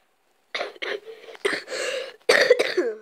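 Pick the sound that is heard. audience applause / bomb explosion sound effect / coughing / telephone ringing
coughing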